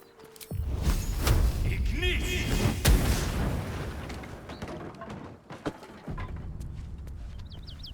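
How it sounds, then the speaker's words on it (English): A booming explosion blasts open a path in a fantasy role-playing game, starting with a heavy burst and rumbling on for several seconds, followed by scattered thuds, small pops and faint game effects as it fades. "And then try to explode the path."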